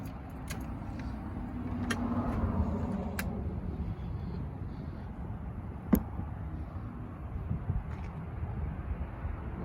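A Chevy S10 truck engine idles steadily in the open, a low rumble under light wind noise, with a single sharp click partway through.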